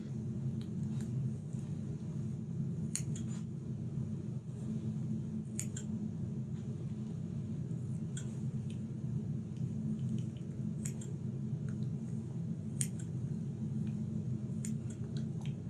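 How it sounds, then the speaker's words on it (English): Scissors snip through the membrane around a fish eye during a dissection, giving faint, sparse clicky cuts over a steady low hum with no talking. "we're going to use the scissors to just cut into that membrane"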